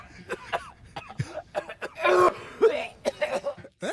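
A person coughs in short harsh bursts, several spaced coughs and throat-clearing sounds close to the microphone, forming a brief coughing fit.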